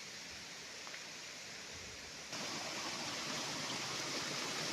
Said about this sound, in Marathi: तो कशा रीतीने पाण्याचा प्रवाह या ठिकाणी खाली येतोय